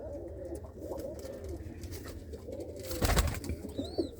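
A female pigeon coos in low, rolling phrases from nearby, with a louder burst of rustling partway through and a short higher chirp near the end.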